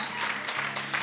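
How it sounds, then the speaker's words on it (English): A crowd claps in a brisk, dense burst of applause, steady throughout with no voices standing out. "You guys give him a hand of applause as they come to the front."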